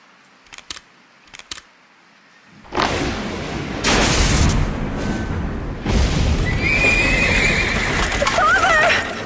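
Panicked horses whinny during a storm in a video game, with a few sharp knocks at first, then loud rumbling storm noise and booms and repeated high neighs rising over the din near the end.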